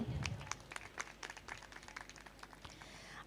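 An audience at a school function applauds, producing a quiet, somewhat distant patter of scattered claps that tapers off over a few seconds.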